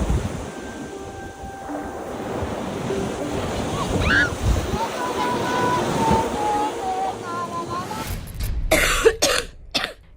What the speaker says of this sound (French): je tousse de ouf